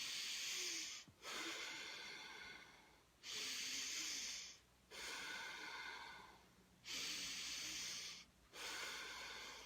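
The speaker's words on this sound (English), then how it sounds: "Just keep breathing." Slow, controlled deep breathing with long rushing inhales and exhales alternating in a steady rhythm, close and fairly loud, with brief pauses between breaths and no talking.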